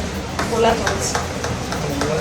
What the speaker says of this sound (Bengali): এটা কর্নফ্লাওয়ার আর ডিম দিয়ে ব্যাটারটা তৈরি হচ্ছে